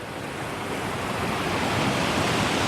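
Deep river water rushes steadily and loudly on a Pacific Northwest Trail section between Ross Lake and Concrete, a dense continuous roar with no pauses and no voices.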